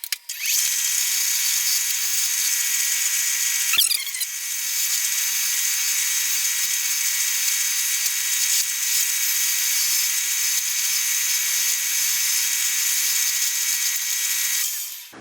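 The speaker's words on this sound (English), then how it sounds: "I'm actually going to go wire brush this real fast." A wire brush scrubs steel parts for a welding cart, giving a continuous loud, hissing whir with a brief catch just before four seconds and no talk over it.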